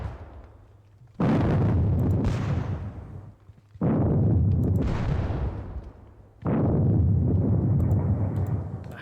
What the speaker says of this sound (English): Let's do the regular. Before I continue over there, we'll do the artillery. The heavy guns.